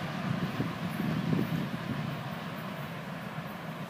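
Low, steady rumble of an FEC freight train rolling by, with a continuous broadband roar and faint clanking, no voices.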